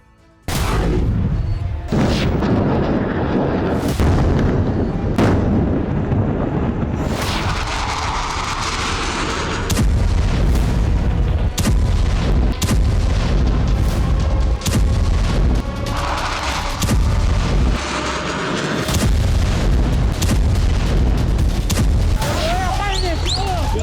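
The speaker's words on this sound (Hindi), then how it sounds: "लेबनान के साथ साथ गाजा और सीरिया में इजरायल की बमबारी खतरनाक रूप ले चुकी है।" Israeli air strikes and artillery fire, with heavy booms and sharp bursts of explosions packed into a loud, continuous barrage, while a voice talks over parts of it.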